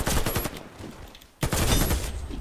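AK-103 rifle in the video game Warface firing two rapid automatic bursts, loud and close, with a brief gap between them.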